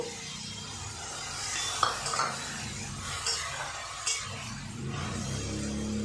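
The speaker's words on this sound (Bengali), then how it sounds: "এখানে রসুন আর লঙ্কা বাটা এটাও আমি দিয়ে দেব" Garlic and chili paste fries in a pan for a small-fish jhal chorchori, a soft continuous sizzle broken by spatula scrapes and a few light utensil clinks against the pan.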